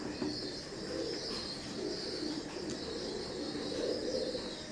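A pair of imported Teddy pigeons coo in low, rolling, repeated phrases, close by and unbroken, with faint chirps and light rustling in the background and no talk.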